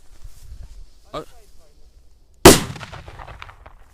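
A single loud firecracker blast goes off outdoors, a sudden sharp bang that dies away in a rumbling tail, after quiet moments and a brief voice.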